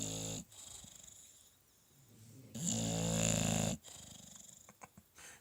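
An English bulldog snores heavily indoors, with long, loud, rough rasping breaths close to the mic, one surging especially strong in the middle before it settles into softer snorts.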